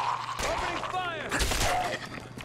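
Gunfire in the video game Fallout 4, dense crackling bursts over about two and a half seconds at moderate level, mingled with a voice shouting in the game.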